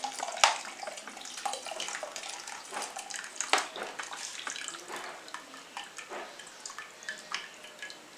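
Water is swirled and poured over sago pearls in a bowl to rinse them, giving close, continuous splashing and sloshing with small drips and clinks.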